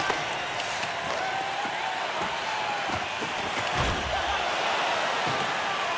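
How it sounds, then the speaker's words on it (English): At a Destruction Bay Blades playoff game, a crowd roars with dense, sustained cheering and applause after a goal, the noise steady and broad with a few sharp thuds. "We'll let the crowd take it from here."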